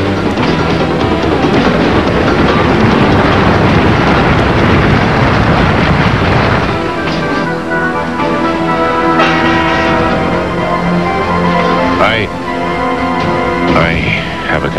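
A train passing in a cartoon, a loud rushing rumble with clattering that thins out midway into a steadier tonal drone with a few short squeals and whistles near the end.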